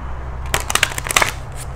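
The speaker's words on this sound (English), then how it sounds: "These cards are a little more challenging to shuffle because they are big." Large, oversized tarot cards are shuffled up close in a quick run of crisp, slapping riffles that last about a second against a steady low hum.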